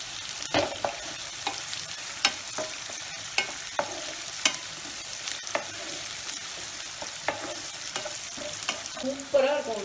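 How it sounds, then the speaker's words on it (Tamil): Shallots and sliced green chillies sauté in a pan, a steady close sizzle punctuated by sharp scrapes and clacks of a spoon stirring at irregular intervals throughout. "நல்லா வதங்கட்டும்"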